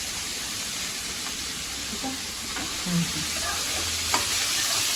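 Cumin seeds crackle and sizzle in hot oil in a kadai, a soft steady hiss with a few small pops and stirring scrapes, fairly quiet and close.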